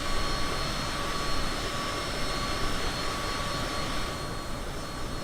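Steady, even roar of a small, sleek jet plane's engine in Microsoft Flight Simulator, a continuous whine and rush with faint tones on top and no speech.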